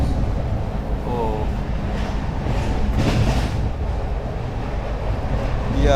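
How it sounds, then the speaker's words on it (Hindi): Dadar Express passing on the adjacent track at speed, heard from inside a moving Kalka–New Delhi Shatabdi Express: a steady, loud rumble of rolling wheels and wind with a brief rise in rush partway through, no talk. "ये आ गई है भाई, ये है शायद मेरे हिसाब से वो थी अपनी दादर एक्सप्रेस।"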